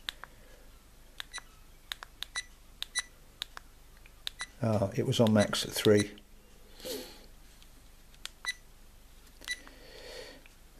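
An AKASO EK7000 4K action camera sounds a series of short, sharp beeps as its menu settings are stepped through. Someone speaks briefly between the beeps, and a louder burst of handling noise comes partway through.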